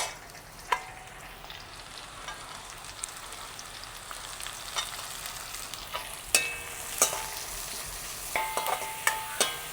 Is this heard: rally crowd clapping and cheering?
no